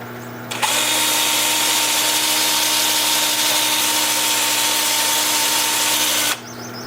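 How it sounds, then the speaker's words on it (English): A power drill spins a 2-inch 120-grit sanding disc against a turned wood bowl, producing one loud, continuous, even whirring hiss that starts abruptly and stops after about six seconds. "I'm going to start sanding with my 2-inch sanding disc at 120 grit"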